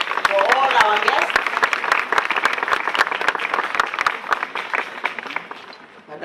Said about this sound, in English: A good clap, please, for all our guests.